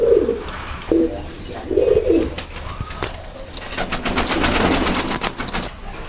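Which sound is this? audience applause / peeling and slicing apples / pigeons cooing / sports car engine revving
pigeons cooing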